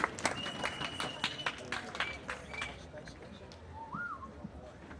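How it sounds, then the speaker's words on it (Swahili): A church crowd at an outdoor crusade claps in scattered bursts to welcome the pastor, mostly in the first few seconds, with whistles and a murmur of voices underneath. "Tumkaribishe kwa makofi"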